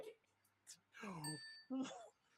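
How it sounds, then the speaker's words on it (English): A bell rings once, briefly and faintly, amid people talking on a Star Trek fan-film discussion show. "otherwise I have to ring the bell."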